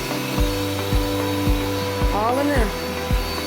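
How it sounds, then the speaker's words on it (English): A vacuum cleaner runs in a living room with a steady motor drone and rhythmic surges about every half second as it is pushed back and forth, while a person speaks briefly over it. "So, we trying to vacuum everything."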